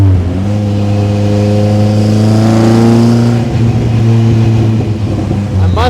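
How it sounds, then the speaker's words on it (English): Engine of a 1955 Austin-Healey 100S tribute car, a rally-style classic roadster, revving hard and climbing through the gears, loud and close, with rising harmonic tones and a brief drop between shifts. "Just a really fun rally car."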